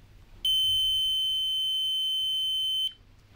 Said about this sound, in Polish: ten sygnał nas informuje, że jednak to przejście jest